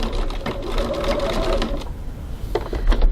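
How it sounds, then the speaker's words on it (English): A sewing machine runs in short bursts as it back tacks back and forth over a bag seam. The stitching whirs close by and stops and starts a few times. "I'm going to back tack a few times to secure that."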